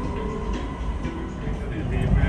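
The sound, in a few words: Kuala Lumpur metro train running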